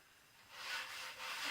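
A Scotch-Brite pad rubbed across a wooden surface of a welding cart while working in a finish, giving two soft, close hissing swipes that swell and fade with no talk.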